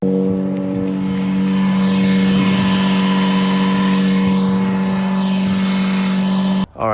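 A BMW E92's engine idles steadily after a coolant system bleed, a loud even hum with strong low harmonics and a faint whine, running alone until a brief dip at the very end.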